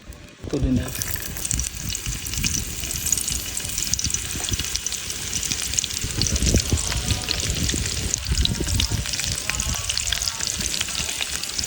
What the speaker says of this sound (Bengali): মাছগুলোকে ফ্রাই প্যানের উপর এক এক করে দিয়ে দিই